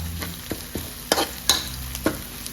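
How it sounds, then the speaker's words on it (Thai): Garlic is stir-fried in a pan for a seafood stir-fry, with a steady sizzle broken by several quick scraping strokes of a spatula, close and clear. "ผัดให้กระเทียมหอมก่อนสุกก่อนสุกก่อน"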